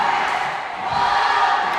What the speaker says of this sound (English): now you're starting to hear the crowd chant